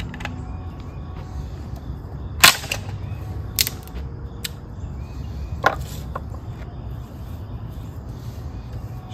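A keychain ferro rod struck to light dry resinous conifer wood shavings and scrapings outdoors, giving a few sharp scraping strikes, one louder than the rest, over a quiet background with faint insect sounds.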